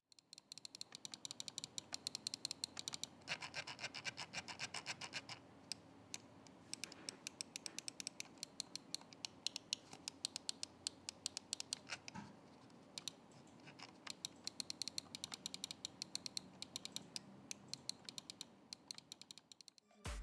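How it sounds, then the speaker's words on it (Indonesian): Rapid, crisp clicks of a DA Air Falco wireless gaming mouse repeat in close-up for about twenty seconds, in quick bursts with brief pauses, over faint background hiss. "berikut ini deh suara feedback klik dari mouse-nya."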